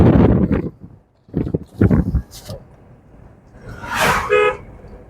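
Car horn sounding during a driving lesson: a short honk, moderately loud, near the end after a stretch of instructor talk over low engine and road rumble.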